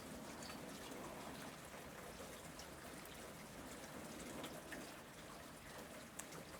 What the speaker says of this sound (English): listen to the sounds around us as it rains.